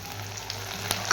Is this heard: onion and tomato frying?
yes